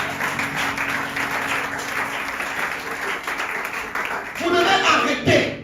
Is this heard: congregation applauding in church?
yes